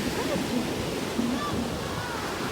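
Powerful sea waves break on a beach in Spain, a steady loud roar of surf and rushing water that fills the scene, with faint voices and snatches of talk mixed underneath.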